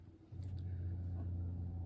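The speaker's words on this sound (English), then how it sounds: "here comes a dump truck, but it's gonna be going by" A dump truck rumbles past on a road, a low engine drone that swells after a quiet start and holds steady, moderately near amid traffic.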